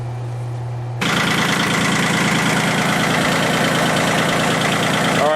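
A John Deere 1050 tractor engine idles just after repair of a hydraulic leak, a loud, steady diesel rumble with a rough knocking texture that kicks in sharply after a quieter second and holds evenly throughout.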